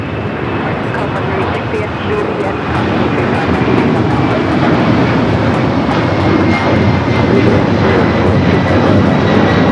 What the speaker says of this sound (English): We do have a Delta 767-400 ER rolling down at 25 right